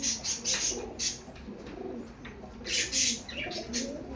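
Pigeons offered for sale coo repeatedly near the microphone, soft throaty calls overlapping with a few higher chirps and a faint background hiss.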